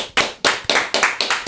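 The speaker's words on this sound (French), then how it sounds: "On applaudit loin du micro." Rapid hand clapping from a small group, somewhat distant and roomy, a steady burst of sharp claps repeating about every quarter second with no voices over it.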